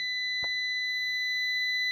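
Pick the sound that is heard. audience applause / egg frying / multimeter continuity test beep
multimeter continuity test beep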